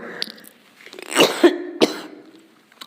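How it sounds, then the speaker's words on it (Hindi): A man coughs and clears his throat a few times in quick, close bursts indoors, with short pauses between them and no speech. "क्षमा चाहता हूं दोस्तों, अचानक से खांसी आ गई।"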